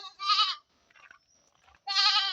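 Goats bleating loudly close by, one wavering cry, a short quiet pause with faint sounds, then a second long bleat.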